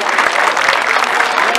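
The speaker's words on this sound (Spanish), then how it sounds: "Yo les pido que le den un fuerte aplauso a todos estos niños que participaron el día de hoy." Dense, steady audience applause fills the hall for the children who sang at a municipal children's amateur singing competition. It is loud and continuous for the whole moment, with no voices over it.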